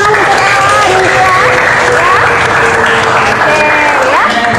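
Classmates clap for a student during a high school Indonesian-language lesson, a loud, continuous patter with voices and calls rising over it throughout.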